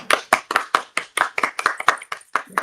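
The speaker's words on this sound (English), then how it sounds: "Let's clap." A small youth podcast group claps together, roughly a dozen crisp, close hand claps in a quick uneven rhythm with no talking.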